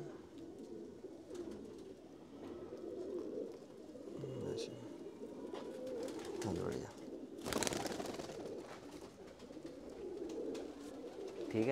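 Steady, murmuring coos from several pigeons, including Pakistani imported pigeons, continue under intermittent speech, with a sharp rustle or flutter partway through.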